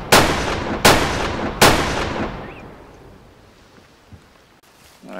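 A .22 rifle fires three sharp, loud shots in quick succession in the Way of the Hunter hunting game, each report followed by a long, fading echo trailing into quiet.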